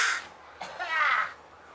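A crow cawing outdoors in a backyard, one short harsh call followed by a longer drawn-out raspy caw, fairly close and clear.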